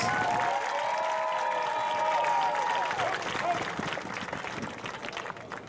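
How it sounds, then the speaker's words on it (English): Crowd at a junior high homecoming court presentation during a Watonga at Minco football game applauds, a broad wash of clapping and cheering from the stands with some shouts, steady and moderately distant. "let's have a round of applause for our junior high homecoming court"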